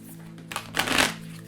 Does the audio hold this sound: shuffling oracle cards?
yes